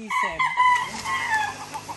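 Several chickens cluck and a rooster crows over a busy farmyard background, with a voice faintly mixed in.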